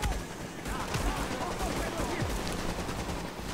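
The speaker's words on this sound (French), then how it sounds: "Moi je vais partir en balle explosive." Gunfire with explosive bullets in The Division, steady clusters of rapid shots and thuds running throughout at moderate loudness, layered under continuous conversation.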